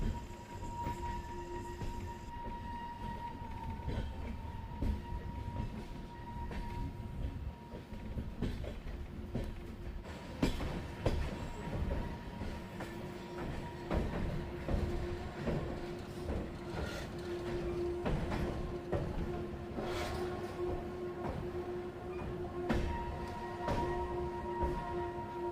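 A passenger train rolling on after departing Edakumari railway station, with a steady, continuous rumble of wheels and carriages that holds evenly throughout, with no voices.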